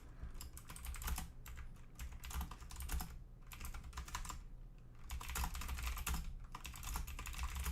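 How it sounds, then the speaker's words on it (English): Rapid typing on a loud, clacky computer keyboard, a steady dense stream of close key clicks with brief pauses, no voice. "Now you get to hear my loud-ass keyboard."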